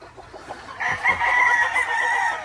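A Sweater gamefowl rooster crows close by in one long, loud cock-a-doodle-doo that swells and holds, following brief soft clucking.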